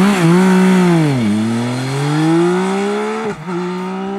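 A Yamaha motorcycle with the inline three-cylinder engine from the 2021 MT-09 revs loudly up close, its pitch rising, dropping sharply, then climbing steadily again before a brief dip near the end.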